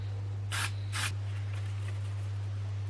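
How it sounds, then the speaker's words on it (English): Two short, sharp bursts of spray adhesive from an aerosol can hit a wooden box and a paper template, each about a fifth of a second, close and fairly loud over a steady low electrical hum. "Then I could get the spray adhesive on the box and on the template"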